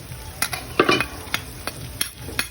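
Garlic and onion are stirred in hot oil in a pan for pansit, giving light sizzling with a series of sharp utensil scrapes and taps against the pan, close and without speech.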